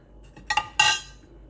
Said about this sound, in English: make sure you keep stirring it slowly with your wooden spatula